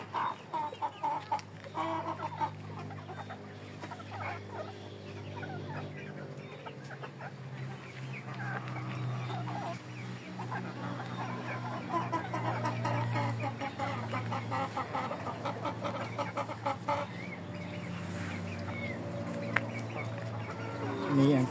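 Many chickens, survivors of a disease outbreak, cluck continuously, close by and busy, forming a dense flock chatter that runs throughout.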